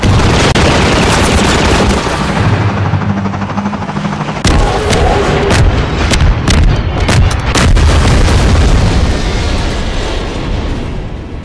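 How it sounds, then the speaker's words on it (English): Loud, dense barrage of explosive booms and rumbling blasts from a missile launcher firing at an alien gunship in Half-Life 2, with sharp repeated detonations over a continuous roar. "So he gives you the missile launcher with the laser sight. You use this to take down a gunship."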